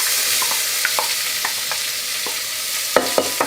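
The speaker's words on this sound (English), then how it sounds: "we're just gonna saute that until it's bright and tender" Onion sizzles in about two tablespoons of melted butter in a hot Instant Pot, a steady bright frying hiss broken by occasional scrapes and taps of a stirring utensil, heard close.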